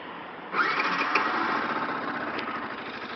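A Yamaha YZF R125 motorcycle engine, already warmed up, cranks and catches after a brief pause, then settles into a steady, close, buzzing idle with no talking.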